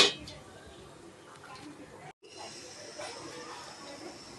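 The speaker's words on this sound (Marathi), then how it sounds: "तर आपण झाकण ठेवून वाफून घेऊया दोन तीन मिनटं" Fenugreek greens steam in a covered pan, giving a continuous close, soft hiss that holds fairly even apart from a brief dropout midway, with a faint clink at the start.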